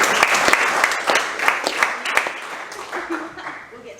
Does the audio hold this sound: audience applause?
yes